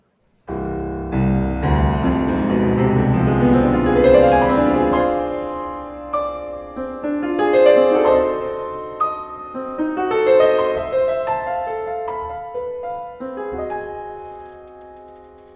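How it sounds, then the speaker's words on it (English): Orchestral excerpt from Nadia Boulanger's concerto for piano and orchestra, with sustained strings and piano lines, swelling loud in the first half then continuing in shifting, moderately loud phrases. "you can hear a little bit of the Nadia Boulanger right now"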